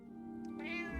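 A cat meows once in the video game Little Goody Two Shoes, a short clear call over a steady, humming game music bed.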